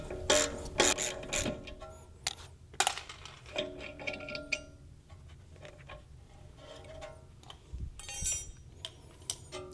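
Metal tools clinking and ratcheting against a brake fitting while loosening the rear brakes of a Porsche Macan S: irregular close clicks, clanks and scrapes, with louder bursts early on and near the end, and no talk.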